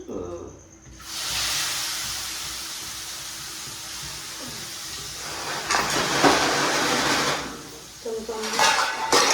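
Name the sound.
onion gravy added to hot oil with mustard seeds, hing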